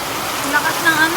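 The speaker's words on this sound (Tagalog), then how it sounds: "Lakas ng ulan ngayon," Heavy rain pouring down outdoors, a dense, loud, continuous hiss with no gaps, briefly overlapped by a faint voice.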